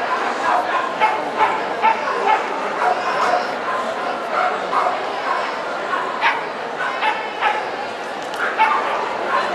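Small agility dogs bark and yip repeatedly at a world championship team event. The sharp barks come at irregular intervals over a busy background of crowd noise and voices.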